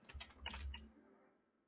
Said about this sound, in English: Typing random like an idiot.